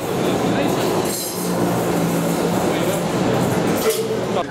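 A Metrolink T68 tram runs along its rails on a final tour, giving a steady, close rolling rumble with faint wheel noise throughout, under a continuous layer of crowd chatter.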